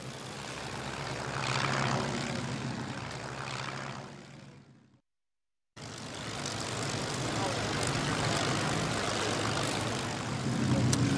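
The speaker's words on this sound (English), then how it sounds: "That is the awesome sound of 34 Merlin engines all firing up, ready to go." Many Merlin engines of Spitfires and Hurricanes gathered for a 75th anniversary tribute flight, a deep rumbling propeller-engine roar swelling and holding, cut by a short gap of silence before the massed engine roar returns.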